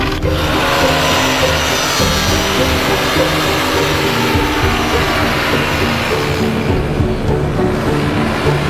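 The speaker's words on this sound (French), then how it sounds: "C'est mon premier décollage sur cette aventure." A paramotor engine roars loudly and steadily throughout a foot-launched takeoff in Poitou-Charentes, a continuous buzzing drone with no pause.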